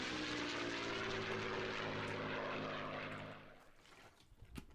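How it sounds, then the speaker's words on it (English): Six Chinook transport helicopters starting their engines at an air base in Jordan, a loud steady rotor-and-turbine roar with droning tones that fades out toward the end. "6 Chinook transport helicopters start their engines at Al Jaffa Air Base in Jordan"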